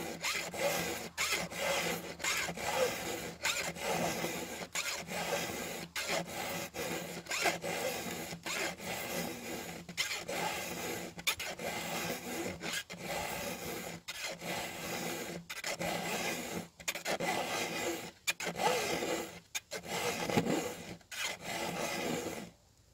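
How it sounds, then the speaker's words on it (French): A flat file rasps steadily across a new chainsaw gouge, sharpening the side angle in long rhythmic strokes with brief pauses between passes, close and continuous with no talk. "je vais faire exprès d'aiguiser cette gouge jusqu'à ce qu'on voie bien le travail de la lime sur l'angle latéral"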